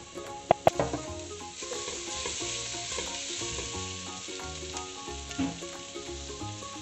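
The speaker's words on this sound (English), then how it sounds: "it's just gonna nicely saute them around" Onions and garlic saute in a pan for a pumpkin soup, a steady close sizzle with stirring scrapes and a couple of sharp utensil knocks near the start, while music plays underneath.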